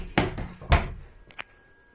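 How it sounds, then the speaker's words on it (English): A large drawer in the bathroom of a 2023 Riverstone Legacy 39RKFB fifth-wheel RV is pulled out, giving two dull, hollow thuds followed by a couple of lighter clicks as it settles, heard close and without talking. "Wow, that's a huge drawer that pulls out."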